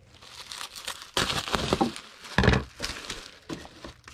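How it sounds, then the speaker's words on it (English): Bubble wrap crinkles and crackles as it is folded and rolled around a video game disc for shipping, in irregular close rustling bursts with short pauses between. "I need a sheet of bubble wrap."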